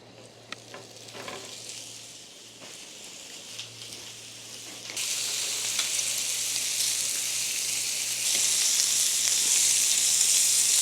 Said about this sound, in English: I'm going to cook everything right now. Like the sausages, the bacon, everything has to be pre-cooked.